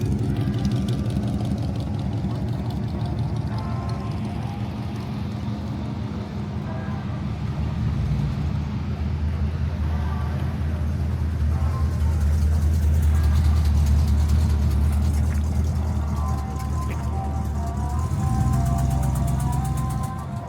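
Car engines rumble and idle at the James Dean Festival, a steady low drone of vehicles rolling past that swells louder midway, with faint music and voices in the background.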